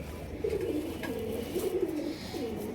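Pigeons coo repeatedly in soft, throaty phrases, close by, over a steady low background hum.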